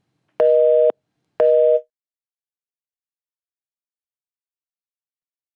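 Two short, loud electronic busy-signal tones sound in steady succession as a telephone call fails to connect, followed by silence with a faint click at the end.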